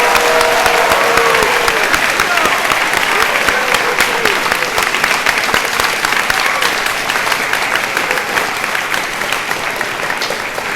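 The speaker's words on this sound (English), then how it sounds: "Round of applause for our faculty and staff." A large audience at a school Founder's Day service claps for faculty and staff, loud continuous applause filling the room without pause, with a faint voice briefly audible early on.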